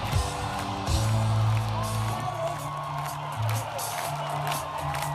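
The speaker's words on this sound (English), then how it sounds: "crowds yelling." A concert crowd yells and cheers in a continuous roar, with sustained music tones running underneath.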